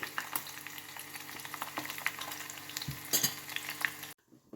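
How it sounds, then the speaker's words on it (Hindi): Steady crackling sizzle of green chilies frying in hot tempering oil, with occasional stirring clatter, continuous for several seconds before cutting off. "थोड़ा सा मिर्चों का भी तड़का हो जाए।"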